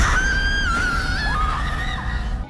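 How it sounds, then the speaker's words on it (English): A woman in a film lets out long, wavering high screams, loud and close, sliding up and down in pitch over a low rumbling background. "we see a lady screaming"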